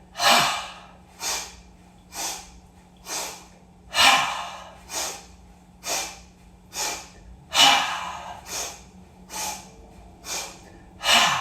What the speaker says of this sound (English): And this is called breath of joy